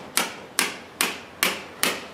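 A hammer taps a nail into a polyurethane horseshoe five times in an even rhythm, each strike a sharp, close metallic knock that rings out briefly.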